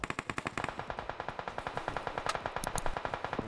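Rapid automatic gunfire in a video game while shooting enemies, a long unbroken stream of evenly spaced shots, close and steady, with a couple of sharper high clanks near the end.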